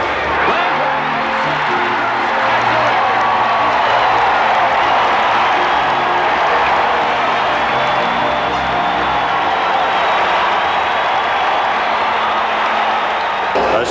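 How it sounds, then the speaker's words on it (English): A standing-room-only baseball crowd in Cincinnati roars and applauds on its feet for Pete Rose at a Reds game, a loud, dense, sustained wall of cheering, clapping and whoops that holds steady throughout with no pause. "A standing room only crowd in Cincinnati on its feet"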